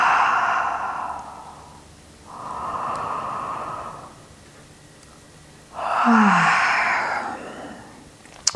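Three slow, deep breaths after a yoga breathing exercise, each a soft airy inhale or exhale close to the mic, separated by brief quiet pauses.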